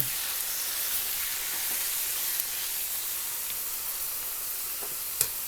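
Liver with onion stewing in a pan: a steady, dense sizzle and hiss of frying runs throughout, close and even, with a single brief clink near the end.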